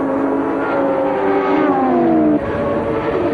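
1983 Formula 1 cars racing, Nelson Piquet's Parmalat Brabham among them, heading into a chicane out of the slipstream and under braking: loud whining engines whose pitch sweeps downward, then drops sharply as the cars slow.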